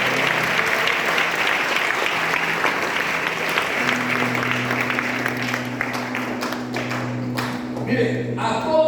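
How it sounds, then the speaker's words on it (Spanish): Church congregation applauding during a Spanish-language sermon, dense sustained clapping at fairly loud level with a low hum beneath, tapering into scattered claps near the end. "Denle un aplauso al Señor."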